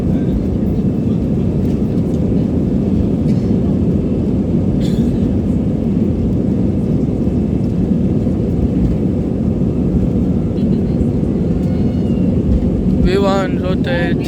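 Airliner jet engines at full throttle during the takeoff roll, a loud steady low roar filling the cabin with constant rumble, while voices talk briefly over it.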